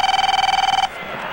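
A cell phone rings with a rapid trilling electronic tone that pulses steadily for under a second, loud and close, then cuts off abruptly into faint background noise.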